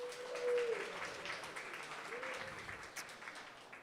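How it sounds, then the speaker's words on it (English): An audience claps at a live conference event, steady moderate applause from a room of people, somewhat distant, with a brief tonal note near the start. "give them a round of applause"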